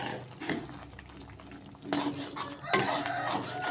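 A pan of sweet and sour sauce with cornstarch slurry is swirled and shaken, giving quiet metallic scrapes and knocks close by, which grow louder and busier in the second half, with no voices.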